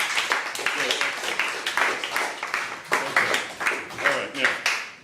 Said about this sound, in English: I need a round of applause, please.